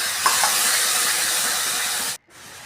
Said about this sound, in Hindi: इस मसाले को भून लेंगे